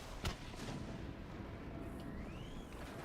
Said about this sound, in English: There's just been a lot of shooting.